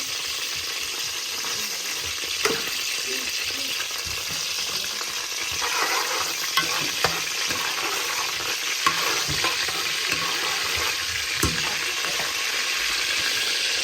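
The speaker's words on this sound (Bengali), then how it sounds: "অয়েল গরম হয়ে গেছে, পাঁচফোড়ন দিলাম।" Panch phoron spices frying in hot oil in a pot, a steady close sizzle with occasional stirring scrapes and small clinks, with no voices heard.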